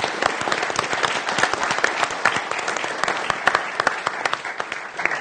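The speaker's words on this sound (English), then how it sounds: "So a round of applause for everyone who's worked on the event." An audience at a keynote and live panel event gives sustained, dense applause with steady clapping throughout and no talk over it.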